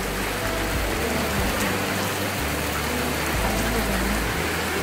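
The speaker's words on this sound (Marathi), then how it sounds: "मोठा आला पाऊस." Heavy monsoon rain in Kudal, Konkan, hisses in a dense, steady wash of noise, loud and close, with a low rumble underneath.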